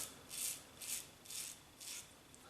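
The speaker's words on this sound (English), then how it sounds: "you'll hear the raspy when it's picking up the bits you've missed" Wilkinson Sword Classic safety razor scraping across stubble in a gentle mild shave, four or five raspy strokes in a steady rhythm, close and quiet with no voices.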